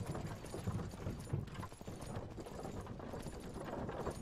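Horse-drawn cart rolling down a road in the survival game Myth of Empires, with steady clip-clop hoofbeats and a rumbling wheel and ambient bed running throughout, moderately loud and without speech.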